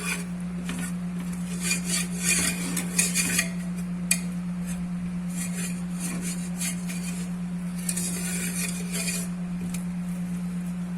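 A utensil scrapes and rubs against a pan as a flour-and-butter roux is worked for béchamel, with steady gritty scraping and occasional light metallic clinks over a constant low electrical hum.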